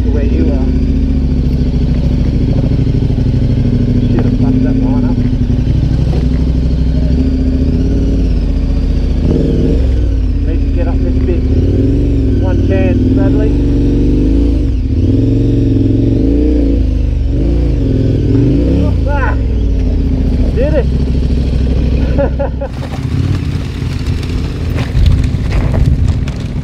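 A KTM 1190R big-twin motorcycle runs on an extreme enduro trail, its engine droning steadily with repeated rev swells and dips, then shifting to a rougher, changed tone near the end, with people talking over it.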